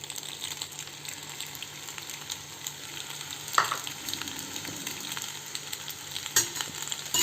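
Vegetables for vegetable pasta fry steadily in a pan, a soft continuous sizzle with occasional stirring clatter and a couple of sharper knocks, moderately quiet and with no talking.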